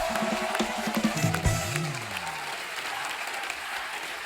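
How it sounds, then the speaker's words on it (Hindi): Studio audience on a Hindi comedy talk show applauds to welcome Ranbir Kapoor and Anubhav Singh Bassi with steady clapping, while a voice briefly speaks over the start. "जोरदार तालियां रणबीर और अनुभव बस्सी के लिए।"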